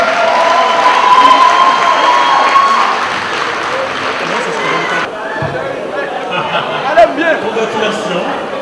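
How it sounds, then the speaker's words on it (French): Audience applause and cheering for Miss Haiti and her two runners-up at a beauty pageant, a loud, dense crowd roar with chatter mixed in, sustained throughout. "je vais vous demander donc, cher public, d'applaudir les trois premières, la Miss et ses deux films"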